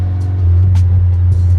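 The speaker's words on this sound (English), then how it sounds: "it's definitely super annoying how loud this truck is" Loud, deep droning exhaust of a lowered 1991 GMC Sonoma drift truck whose exhaust exits right under the cab, a steady heavy low hum close by with faint rattling on top.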